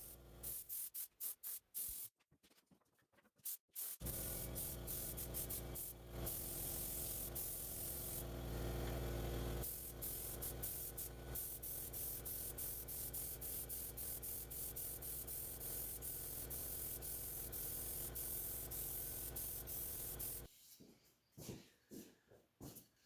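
A long, steady hiss of spraying finish onto an acoustic guitar, loud and close, running continuously for most of the stretch with short bursts and pauses at the start and end.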